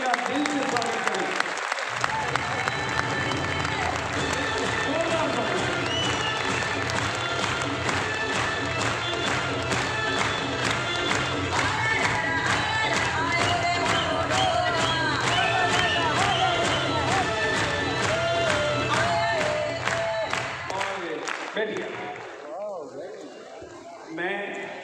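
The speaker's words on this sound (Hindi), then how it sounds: "बहुत जबरदस्त तालियों के साथ में इनका दिल से स्वागत करेंगे" A large audience at an RCM business gathering breaks into loud, sustained applause with cheering, a dense rhythmic clapping wall lasting about twenty seconds before fading, with a voice over the crowd.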